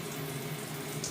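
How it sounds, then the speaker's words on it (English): Tap water runs steadily to rinse fused glass pieces in a studio sink, an even, soft rushing stream with no speech. "I like to really, really rinse and clean these."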